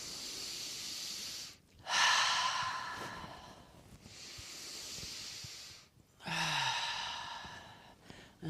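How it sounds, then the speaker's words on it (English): Slow, deep breaths during a guided meditation, each a long, soft, airy inhale or exhale, repeated about three times with quiet pauses between them, close and without speech. "take a deep breath in"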